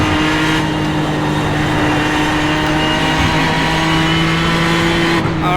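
A race car engine in the iRacing sim roars loud and close under hard throttle, a steady high-revving drone with a slight pitch rise, alone without talk.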